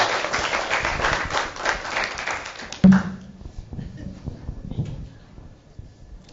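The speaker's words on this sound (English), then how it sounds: "Yes, huge round of applause." Brief burst of audience applause at a Maui community forum, loud clapping for about three seconds that cuts off sharply, followed by scattered taps and faint room noise.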